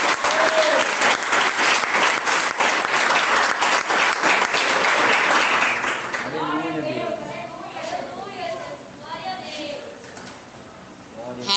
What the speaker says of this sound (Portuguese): Nós vamos receber nossa irmã missionária Adriane Santos com mais palmas